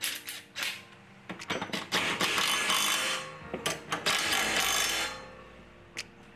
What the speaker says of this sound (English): A little oil, and tighten them up.